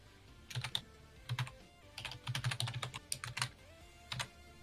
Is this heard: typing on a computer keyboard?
yes